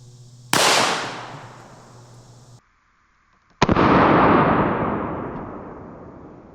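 A 9mm Glock 17 pistol fires twice. Each shot is a loud, close, sharp crack that rings out into a decaying echo, with a second of near silence between the two shots.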